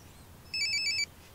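A phone rings in The Sims video game, a short bright electronic ringtone of several quick warbling pulses over quiet background hum.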